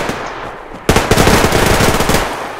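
Rapid automatic gunfire from the multiplayer shooter Survarium erupts after a short quiet lead-in, loud and close, with a dense run of bursts lasting to the end.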